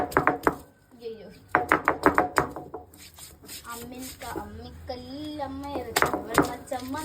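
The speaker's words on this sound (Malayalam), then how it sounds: "അമ്മിക്കല്ലിൽ അമ്മ അരച്ചു പച്ചച്ചമ്മന്തി." A woman grinds green chutney by hand on a traditional stone grinder, making rhythmic stone-on-stone scraping and knocking strokes. The grinding sits close by, with voices talking over much of it.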